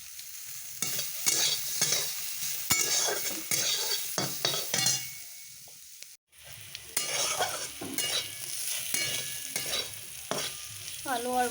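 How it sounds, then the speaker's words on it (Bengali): Yardlong beans sizzle and fry in a pan while a utensil stirs and scrapes them steadily, with a brief quiet break midway before the frying resumes. "বরবটি ভাজা করছি"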